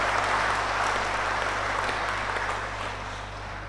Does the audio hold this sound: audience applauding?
yes